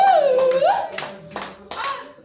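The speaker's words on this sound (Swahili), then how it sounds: "Tupigie Mungu makofi mazuri" Congregation clapping for God during a church sermon, several bursts of handclaps mixed with a raised voice and cheering over about two seconds.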